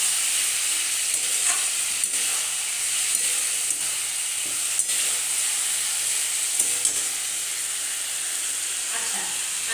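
Fish curry with onion paste sautéing in a pan for a thin curry of small fish with eggplant, ridge gourd and potato, giving a steady close hiss and sizzle with faint scrapes of stirring throughout.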